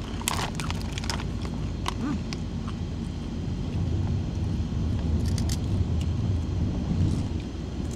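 Inside a moving car, a steady low road and engine rumble fills the cabin, with scattered rustles and clicks on top and no clear talking.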